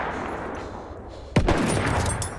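Gunfire in the video game Battlefield 1: a sudden loud burst of shots cracks out midway after a quieter ambient stretch, with the barrage continuing densely to the end.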